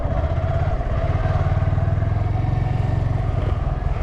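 A stunted stock Honda Grom motorcycle idling and running nearby, a loud steady low thumping engine throb with a fast, even pulse.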